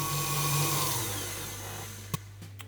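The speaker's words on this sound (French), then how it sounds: "Puis j'arrête mon batteur." An electric hand mixer with a whisk attachment whirs steadily through sponge batter, the motor slowing and winding down before a couple of small clicks and taps.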